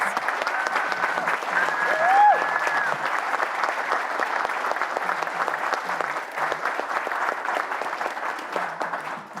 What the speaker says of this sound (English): So can I please get a round of applause for Cherrylands and Cherries?